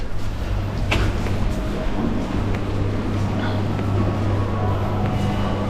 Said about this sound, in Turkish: Ve şu an Taşkent tren istasyonundayız.